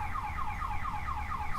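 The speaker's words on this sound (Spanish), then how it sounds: "¿Se siente mucho el alarma?" A car alarm sounds outside with a repeating rising electronic whoop cycle, steady and moderately distant, alone without speech.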